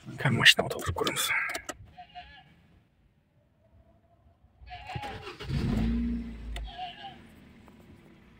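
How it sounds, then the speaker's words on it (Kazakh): A Hyundai Accent, just fitted with a new ignition coil, cranks and starts, then settles into a low, steady idle rumble after a quiet pause. A voice speaks beforehand. "Қазір машина оталдырып көреміз."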